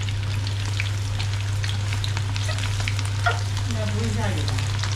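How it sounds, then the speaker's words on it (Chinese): Pork belly pieces deep-fry in oil with a constant bubbling sizzle close by, a low steady hum underneath and a few brief clinks near the end. "炸五花肉啊"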